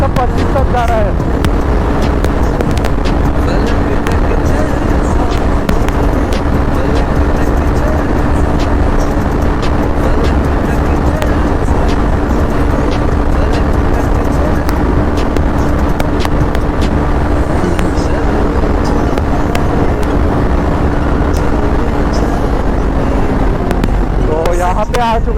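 A motorcycle running at speed in a high gear, around 125 km/h, near Agartala makes a loud, steady engine drone thick with wind rush for the whole stretch, with a voice speaking over it at times.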